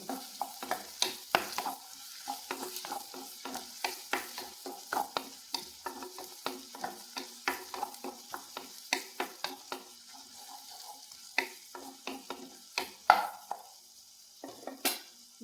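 Onions sautéing in a pan for pineapple thoran, heard as soft, continuous frying under repeated close scrapes and clinks of a spoon stirring against the pan.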